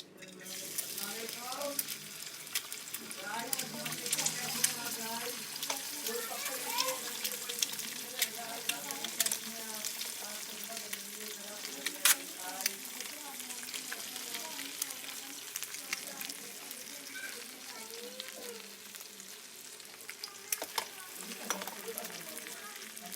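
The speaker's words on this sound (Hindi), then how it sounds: "अब बिस्मिल्लाह करके एग को हम तोड़ेंगे ऐसे करके और बिस्मिल्लाह करके इसमें डाल देंगे" An egg fries in a hot salted kadhai with a steady, close, crackling sizzle that keeps going throughout. Soft scrapes from stirring and a low voice come through underneath.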